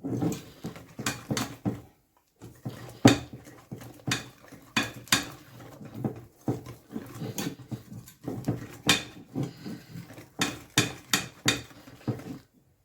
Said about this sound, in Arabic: كنضرب هاد البيض مزيان.